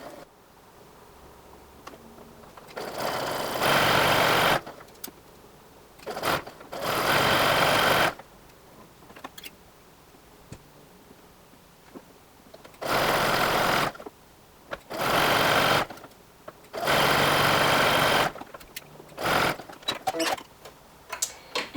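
Sewing machine stitching elastic onto underwear fabric in short bursts of steady whirring, each a few seconds long, separated by pauses, close and fairly loud.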